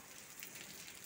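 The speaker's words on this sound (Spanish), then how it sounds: "gracias a Dios llovió." Steady rain falls in Holguin, Cuba, a dense, even hiss of drops on surfaces that holds at one level throughout, with no voices.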